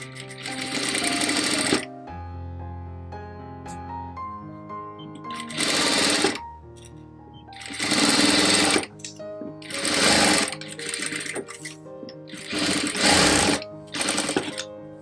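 A sewing machine stitches fabric along a curve in about five loud, buzzing bursts. Quieter gaps with a soft tonal hum fall between the runs as the fabric is turned.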